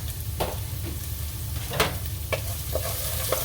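Garlic and onions sizzle steadily in a frying pan, a loud continuous crackle with a few sharper ticks and clinks as the mix is stirred, no talking.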